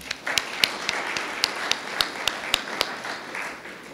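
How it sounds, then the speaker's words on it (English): Scattered applause from a small audience at an archives centennial celebration, a few distinct sharp claps standing out over a thin background patter of clapping. "Give him a round of applause."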